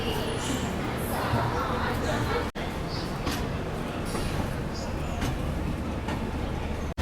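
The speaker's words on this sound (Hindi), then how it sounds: "अब हम लोगों का डिपार्चर हो रहा है न्यू दिल्ली रेलवे स्टेशन से" The Duronto Express pulls out of New Delhi railway station, a loud continuous rumble of rolling stock with brief sharp breaks, heard from inside the train with murmuring voices underneath.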